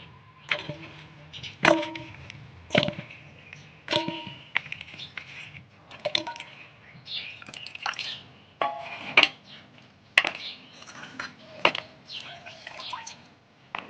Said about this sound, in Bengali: এবার মাছের মাথাটা ধুয়ে নিব